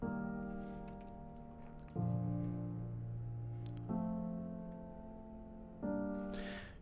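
Four sustained synth chords, each held about two seconds, thick and low with a dense, murky tone. No voices.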